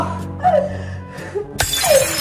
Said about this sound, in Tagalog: Binasag niya yung baso!